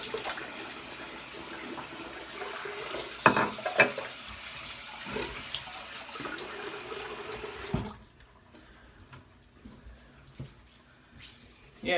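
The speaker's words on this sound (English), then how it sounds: "Let me go ahead and rinse off real quick" Running tap water splashes steadily while someone rinses off after a head shave, a broad continuous wash with a few brief clatters, then cuts off abruptly near the end, leaving a quiet room with faint small sounds.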